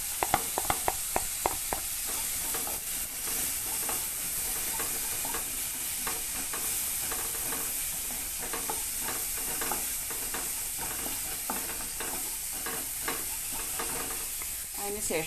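Capsicum is stir-fried in a pan as a continuous bright sizzle, with repeated scraping and tapping strokes of the spatula, quick clicks at the start and then steady stirring throughout.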